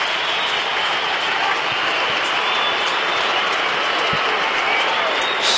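Bulldogs supporters at the 2014 VFL Grand Final against Box Hill roar as one loud, sustained, broad crowd wash that holds steady throughout.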